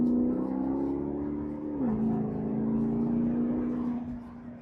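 Deep, steady engine note of a 2011 Maserati GranTurismo, revving with a brief dip in pitch midway, then holding a loud, continuous roar close by.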